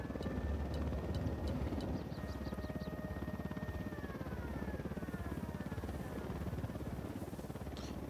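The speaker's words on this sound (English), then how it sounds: "We got a chopper coming." Military helicopter in the video game Ghost Recon Wildlands, a steady rotor thrum and engine buzz droning continuously at close range, with faint game tones overhead.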